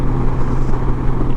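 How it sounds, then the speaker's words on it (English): Mercedes G-Wagon driving past on a road, a loud, close engine rumble with steady low drone and tire noise over a short moment, no speech. "there's a nice ride, a little G-Wagon action."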